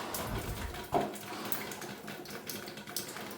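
Warm water leaking inside a house wall behind soaked drywall, a faint trickling and splashing with a brief louder knock partway through.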